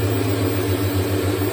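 A car polishing machine runs steadily on paint, a constant close motor hum with a low droning tone and a slight whir that holds even and unbroken throughout.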